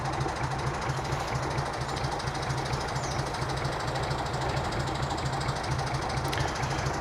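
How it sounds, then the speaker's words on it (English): Constant roar of distant M6 motorway traffic with cars and trucks, a dense steady rumble with a low droning engine tone running throughout. "it's quite noisy with the M6 motorway not being very far away"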